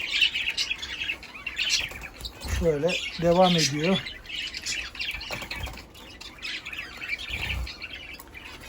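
Indian bulbuls and other caged birds in a pet shop give sharp squawks and chirps, with a loud warbling call in the middle, while people talk nearby throughout.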